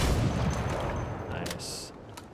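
Video game shotgun blasts and heavy gunfire heard as a loud, dense roar, with a couple of sharper cracks near the end and speech mixed in.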